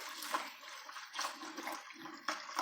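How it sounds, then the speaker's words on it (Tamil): A little water is swirled and poured into a pan of buttermilk rasam while cooking, giving soft, uneven splashing pours that stay quiet and close, with no speech. "கொஞ்சமாக தண்ணி சேர்த்து கழுவி ஊற்றிக்கலாம்"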